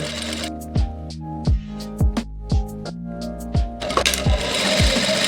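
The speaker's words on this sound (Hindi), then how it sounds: "अब इसको ज्वाइंट करने के लिए सिलाई" A sewing machine stitches fabric pieces for a circular palazzo, running in short bursts of rapid needle chatter with brief pauses between them, close and clear.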